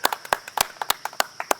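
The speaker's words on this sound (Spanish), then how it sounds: "Un aplauso fuerte para todos" Audience applause at a hotel school event, sounding as a handful of sharp, distinct claps in a fairly regular rhythm, close by and spaced apart rather than a dense wash.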